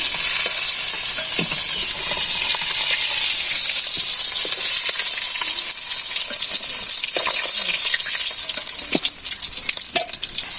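Fish frying in oil in a pan over a clay stove in a village kitchen, with a loud, steady hiss and crackle that runs the whole time and occasional stirring scrapes.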